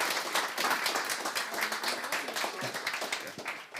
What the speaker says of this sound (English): So a little applause.